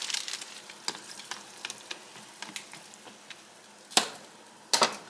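Broken chunks of ramen noodles are dumped into a pot, giving light crackling and clattering ticks followed by two louder clunks near the end, with no voices.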